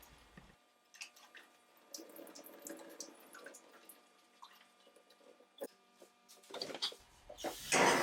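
Water rinses over a restored Brewster lamp to wash away flux, a quiet running trickle with intermittent drips and splashes, a louder gush near the end, no voices.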